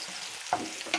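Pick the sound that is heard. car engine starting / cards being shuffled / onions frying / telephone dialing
onions frying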